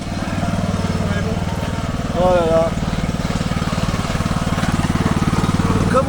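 A tractor engine runs with a steady, throbbing idle throughout, fairly close and loud, with a brief exclamation from a voice over it.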